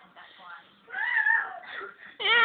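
A small child imitates a cat's meow, a series of whiny, wavering vocal cries close to the listener, rising into a louder drawn-out meow at the end.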